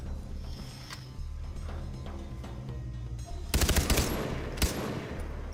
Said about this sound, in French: je lui ai tiré dans la tête et je l'ai tué du premier coup